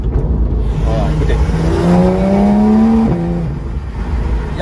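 A car engine with its exhaust line opened revs up, its pitch climbing steadily before dropping back to a rough, loud idle, heard close and continuous.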